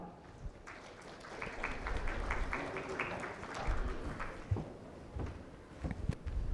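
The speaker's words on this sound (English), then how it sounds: "Please welcome, sir, with a huge round of applause" An audience at a legal-tech conference applauds to welcome a speaker, a dense stretch of clapping that swells and then fades into scattered claps and room noise.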